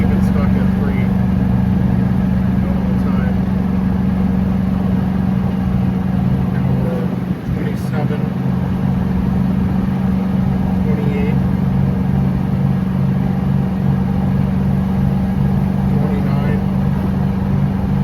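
A Club Car gas golf cart engine runs steadily near 3,000 RPM with a constant droning hum, while someone talks over it in the middle.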